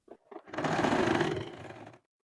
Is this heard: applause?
no